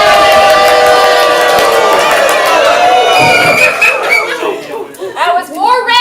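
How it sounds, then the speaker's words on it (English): A live comedy-show audience stands and cheers for their team, a loud, dense roar of shouting and whooping that fades in places into scattered laughter and calls near the end. "guys stand up, cheer for your team"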